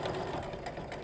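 A sewing machine stitching a T-shirt quilt runs in a fast, steady mechanical whir and rattle, close and fairly quiet, over a brief second.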